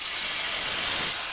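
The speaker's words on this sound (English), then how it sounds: "we'll turn the steam on first" Steam wand on a Chief Steamer 125 PSI releasing a continuous, steady hiss of pressurised steam close up, alone with no voices, while cleaning a door jamb.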